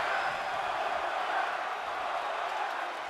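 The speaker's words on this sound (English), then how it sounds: "Crowd chanting one more time." A wrestling crowd at an indoor show roars and chants continuously, a dense wash of many voices holding at a steady level throughout.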